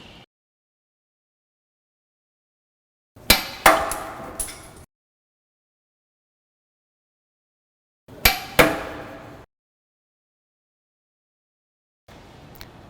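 An Izod impact tester's pendulum strikes fiberglass specimens in a lab. Two sharp, loud cracks come with a short rattling clatter after each, with near-silence between them and a faint third knock at the end.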